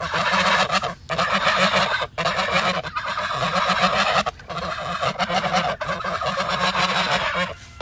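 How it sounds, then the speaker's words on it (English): Young geese honk loudly and continuously at close range, a dense, overlapping chorus of calls with only brief pauses between bursts. "these are the same baby geese that you saw before."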